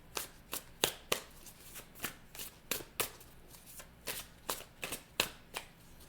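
Tarot cards are shuffled close up in a quick, irregular series of crisp riffling snaps and slaps, about a dozen bursts, quiet and with no voice.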